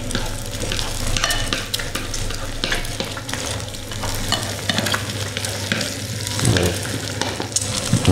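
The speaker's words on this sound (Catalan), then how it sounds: "És un ou fregit que és un espectacle de... de sal." An egg frying in a pan, its white and yolk set in separately, sizzles and crackles steadily and close up for the whole stretch, with the scrape of stirring in the pan and no voices.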